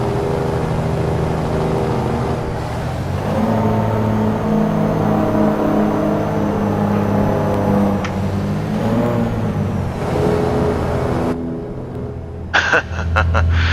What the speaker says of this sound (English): very nice sound when you're going through a tunnel. A beautiful Detroit diesel in this Freightliner Classic XL